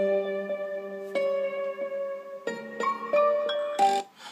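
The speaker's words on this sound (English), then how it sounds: "The instruments we can hear playing there is the swamp guitar again," A twangy swamp-style electric guitar plays a repeating riff of plucked notes over a low double bass line, building into denser chords toward the end.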